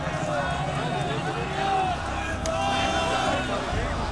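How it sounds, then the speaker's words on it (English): A large mob gathers outside the KGB headquarters in Dresden at night, a dense, steady hubbub of many voices and movement that swells slightly midway, with a few sharper cries rising above the continuous crowd noise. "A mob surrounded the building."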